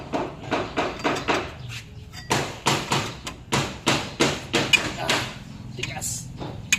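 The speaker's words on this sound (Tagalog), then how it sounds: "Pupukpukin muna natin 'to." Sharp metal hammer strikes on a cotter pin in the king pin of an Isuzu NHR truck, coming in a fast, rhythmic string of close, loud taps with brief pauses and a second burst.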